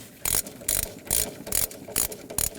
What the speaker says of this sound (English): Now let's tighten up that jam nut.